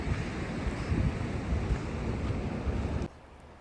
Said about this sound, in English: Look at how chill the ocean is today.